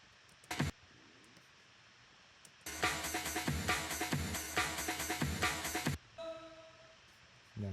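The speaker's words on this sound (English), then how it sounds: "this is just the Amen break" A sampled Amen break drum loop plays for about three seconds, a busy, punchy breakbeat of snare and kick hits, framed by quieter clicks and brief synth tones before and after.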